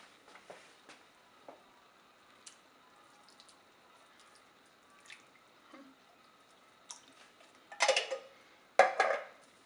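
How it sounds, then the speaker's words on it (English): Paella ingredients tossed into the pot make a few soft wet clatters and splashy thumps, close and moderately loud, with two clear bursts near the end after quieter faint clinks and drips. "I'm gonna go ahead and toss these in the pot."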